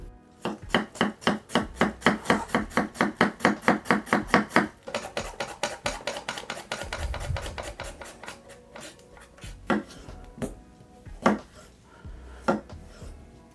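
A knife chops garnish for chicken pozole on a wooden board in fast, even, close strikes, then slows into scattered single cuts with a rasping scrape between them.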